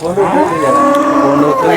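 A large dairy cow at a cattle market gives a single long, loud moo close by, a drawn-out bellow that rises and then tails off.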